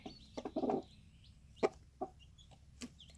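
Wyandotte hen sitting with newly hatched chicks, giving a few soft low clucks, one short burst early and scattered single notes after, near and quiet over a faint background.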